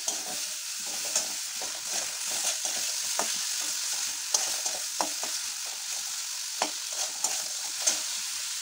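Prawns stir-fried in spices in a pan, a steady close sizzle with repeated scraping and tapping of a spatula against the pan at irregular intervals, with no talking.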